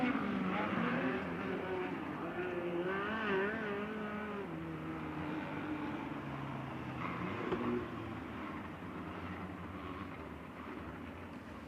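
A race car engine at a USAC November Classic race in Bakersfield fires and drones steadily, with pitch rising and falling across the whole stretch, sitting fairly close and loud.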